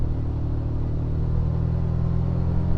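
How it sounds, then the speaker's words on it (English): Turbocharged four-cylinder hybrid powertrain of a 2024 Toyota Tacoma Trailhunter (iForce Max) under acceleration, a steady low engine rumble with a constant drone and intake hum heard from inside the cabin with windows up, no voices. "that insane intake / blow-off noises, it's going to be reduced quite a bit when you have the windows up"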